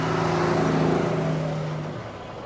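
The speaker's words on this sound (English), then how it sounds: "I had no idea that this spot would have so many trucks. Even this noise" A truck rumbles past close to a parking spot, a loud steady engine drone with low harmonic hum that slowly fades as it moves away.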